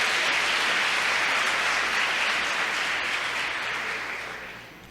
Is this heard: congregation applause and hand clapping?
yes